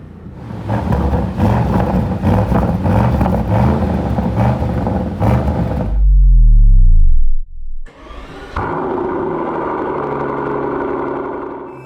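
A 2025 Audi RS Q8 Performance engine, loud and close, runs at a rough idle, then flares into a sharp rising rev that drops away. After a brief gap it settles back into a steady deep rumble.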